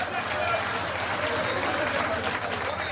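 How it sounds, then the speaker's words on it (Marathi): Loud, dense applause from a large audience welcoming a leader at a state-level Maratha planning meeting, steady clapping filling the space throughout without a break. "प्रचंड टाळ्या वाजवून दादांचं स्वागत करायचं आहे"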